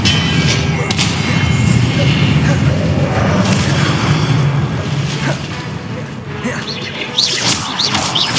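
Heavy magical blast from the Confringo spell in Hogwarts Legacy, booming thuds and crashing impacts in quick succession over a dense rumbling combat backdrop, loud and close.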